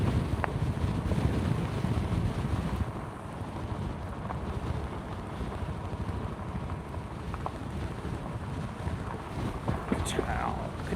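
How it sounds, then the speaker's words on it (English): Strong wind buffets the microphone outdoors during a test ride of an electric all-wheel vehicle, a loud, continuous rough roar with gusts, no clear speech. "Oh my gosh, it's so windy."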